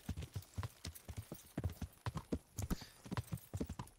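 A horse's hooves clip-clop in a steady, rhythmic walking gait in the medieval game Kingdom Come: Deliverance, with close, distinct hoofbeats repeating throughout.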